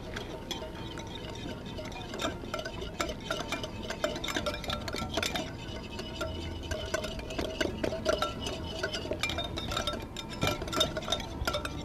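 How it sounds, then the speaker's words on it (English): Vinaigrette whisked steadily in a bowl as olive oil is slowly added, a continuous rapid clatter of wire against the bowl up close, with no talk over it. "we're going to mix this up and we're going to slowly incorporate the olive oil"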